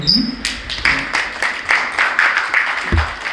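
Brief applause from a seminar audience of Korean church leaders, several short bursts of hand clapping over about three seconds, fairly close and moderately loud.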